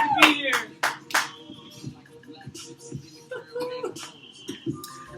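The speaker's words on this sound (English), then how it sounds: "Give them a round of applause, everybody." An audience at a competitive improv comedy show gives a scattered round of applause, with sparse close claps mixed with voices talking in the room.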